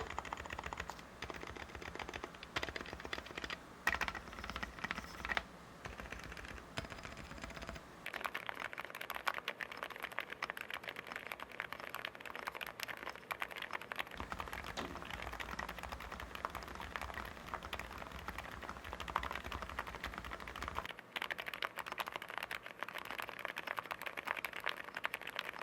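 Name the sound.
typing on a white wired keyboard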